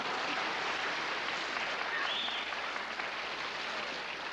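Studio audience applause on a TV variety show, a steady, even roar of clapping at moderate distance that holds unbroken for over four seconds.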